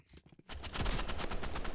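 Automatic gunfire rattles in the Roblox game Rivals, a rapid burst of repeated shots that starts abruptly after a few quieter taps and keeps firing steadily.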